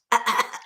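One brief, sharp throat clearing, a quick rasping burst close to the mic that fades within a second.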